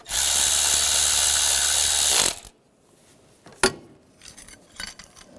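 Bolts on an engine bracket of a 2006–2009 Mercedes-Benz E350 with the 3.5L V6 are run down by a buzzing power tool for about two seconds, then a few close metallic clinks and ratchet clicks follow.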